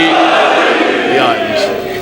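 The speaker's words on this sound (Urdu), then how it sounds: "جرت نال ہر بندہ بولے حیدری" Crowd at a Shia majlis in Kharian, Gujrat, shouting the slogan Haideri together, a dense loud roar of many voices sustained for two seconds.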